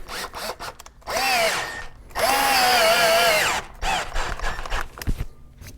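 A power drill driving an Allen key whirs in two sustained bursts, its pitch rising and settling, with short clicks and handling noises in between.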